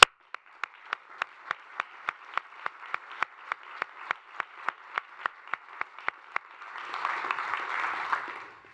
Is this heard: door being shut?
no